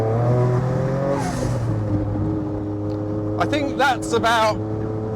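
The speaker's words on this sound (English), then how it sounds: "You've got that old-fashioned sort of whoosh, turbo whoosh from the back end of the car." Noble M12 3R with a turbocharged engine, accelerating: a strong, close engine drone rises steadily in pitch, with a brief airy whoosh near the start. Someone talks over it toward the end.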